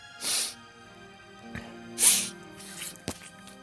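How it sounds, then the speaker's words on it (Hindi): Two forceful blasts of someone blowing their nose, a couple of seconds apart, over soft background music with a few small knocks. "पार्क के पेड़ के पीछे जाकर अपनी नाक साफ करने लगे"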